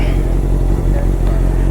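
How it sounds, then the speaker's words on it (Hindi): A Honda CBR650 motorcycle engine idles after starting to warm up. The close, loud, continuous rumble holds steady with a slight uneven pulse. "तो गाइज़ बाइक थोड़ी सी कर दिया स्टार्ट, हल्का सा वार्म अप हो जाए"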